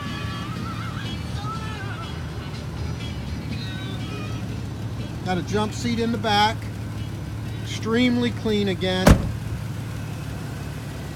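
A 2006 Ford Ranger's 3-liter engine idles with a steady low hum, audible beneath someone talking close by.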